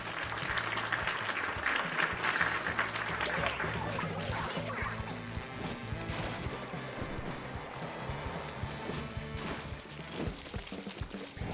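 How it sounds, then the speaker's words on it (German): Applause sound effect played during a livestream, a busy burst of clapping and cheering mixed with other clattering effects that runs for several seconds before gradually thinning out. "Ich gebe einfach mal einen Applaus, der ja einfach euch gehört"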